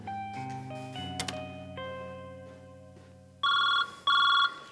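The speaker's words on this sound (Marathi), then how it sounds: "रिंग वाजते काय?" A telephone rings during a Marathi comedy stage sketch: after a stretch of sustained musical tones, two loud electronic ring bursts sound in quick succession near the end.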